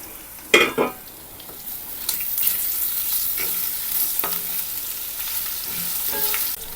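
Ridge gourd peel being sautéed in a pan, with steady sizzling and frying hiss, a couple of sharp utensil clinks near the start, and intermittent stirring scrapes throughout.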